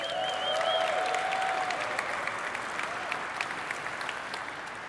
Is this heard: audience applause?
yes